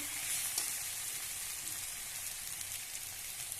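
Raw jackfruit and spice masala sauté in a pan, giving a steady, fairly quiet broadband sizzle throughout with one faint stir scrape, no voices.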